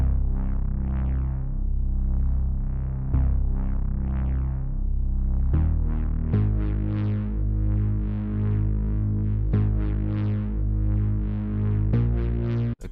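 A deep synthesized bass line built in FL Studio plays alone, rolling through sustained low notes that change pitch every second or two in a steady, throbbing pattern.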